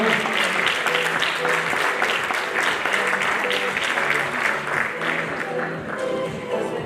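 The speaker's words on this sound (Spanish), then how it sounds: "Bien, fuertes aplausos." A large audience at a mountaineering awards gala gives a sustained, loud round of applause, dense continuous clapping filling the room without a break.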